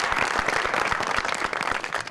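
An audience at a live comedy show claps in a dense, steady burst of applause, the rapid hand claps blending into a continuous wash.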